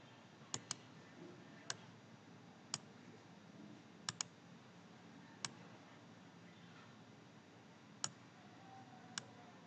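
Sharp mouse clicks taken while downloading a logo from a website, about ten isolated clicks spaced irregularly over a faint steady background hiss, including a quick double click near the start.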